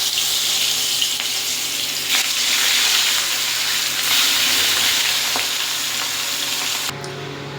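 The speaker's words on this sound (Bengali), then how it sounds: "তেলটা গরম হয়ে গেছে। এবার এক পিস করে মাছগুলো দিয়ে দেবো" Pieces of magur catfish fry in hot oil, giving a loud, continuous sizzling hiss close by with a few sharp pops; the sizzle drops to a quieter level just before the end.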